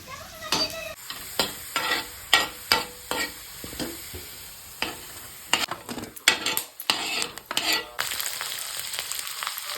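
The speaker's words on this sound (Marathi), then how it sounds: "लसूण आणि अद्रक ते तळून घ्यायचं तेल कडे जायला पाहिजे" Garlic and ginger frying in oil crackle and sizzle up close while a spoon stirs and scrapes the pan in an uneven rhythm of repeated strokes.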